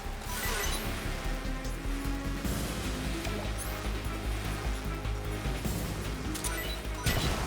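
A grenade blast in the stealth-action game Metal Gear Solid 3: Snake Eater, a loud crashing burst over dense, continuous game audio with rumbling low end, plus a second sharp hit near the end.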